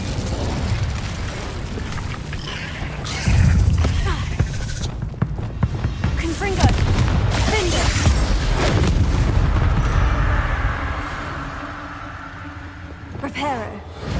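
Fiery spell blasts erupt in the Hogwarts Legacy video game, a series of loud booms and bursts amid combat noise, with voices shouting over the action.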